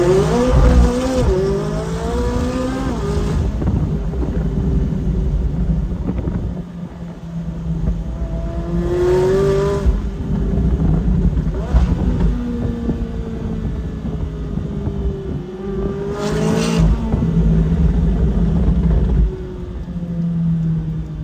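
Supercar engine revving through an aftermarket downpipe exhaust, with a deep rumble that rises in several long pulls and falls back between them, loud and close, no talking.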